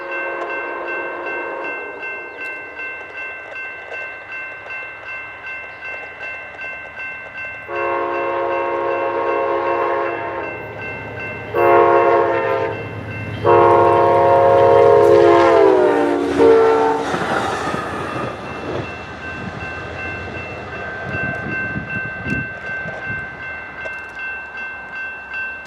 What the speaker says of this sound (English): we catch our first train, the southbound Amtrak Valley Flyer, with 2 coaches behind one P42 DC